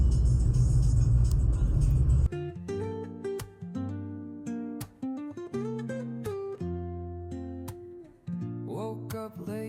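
A car drives along an empty road with a loud, steady roar of road and engine noise for about two seconds, then music takes over for the rest.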